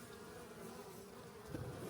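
Steady, dense buzzing of Italian honeybees, close and continuous throughout, with no voices.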